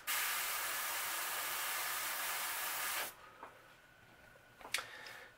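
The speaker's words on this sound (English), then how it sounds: "And then I like to just spray it down the back and get a little bit on the nose." Spray paint hissing in a steady continuous burst, close and loud, for about three seconds while a nebula color pattern is painted, then cutting off to quiet with a few faint clicks.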